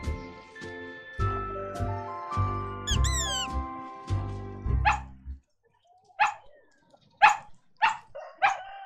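A cartoon farmyard duckling imitates a dog, giving a run of short, clear barks in quick succession. Softer yips follow, spaced apart and close up.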